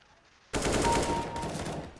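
Rapid automatic gunfire in the CS:GO video game, a loud close burst of sustained shots starting abruptly after a quiet moment, with no talk over it.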